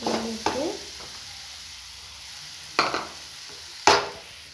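Banana mixture being stirred slowly in a pan while making banana balls, with a few soft scraping strokes and faint sizzling between them.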